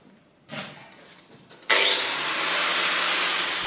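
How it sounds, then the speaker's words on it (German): Angle grinder spinning up and cutting into metal: brief starting whirs, then a loud, sustained harsh hiss of the disc grinding through the workpiece, close up with no talk. "die Flex, das ist dann ein Werkzeug, wo du dann halt Material trennen kannst oder Oberflächen bearbeiten"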